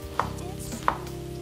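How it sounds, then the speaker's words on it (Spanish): Two sharp knife strokes cut vegetables into cubes on a board, each a crisp, close thud spaced well apart, with a quiet kitchen hum underneath. "vamos a cortar ahora sí nuestros cubitos"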